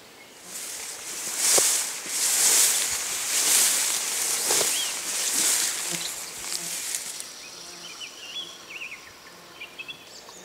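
Honeybees buzz around a flowering nectar plant outdoors, a fairly loud, wavering hum in the first seconds that thins into fainter, scattered buzzing.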